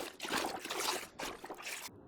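Running water splashing as a character washes in a survival video game, a steady close trickle and pour with short uneven bursts, fairly quiet.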